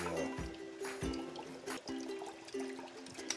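Pineapple juice pours into a pan for a brown sugar glaze, a quiet close liquid trickle with soft splashes and a few clinks, faint and steady.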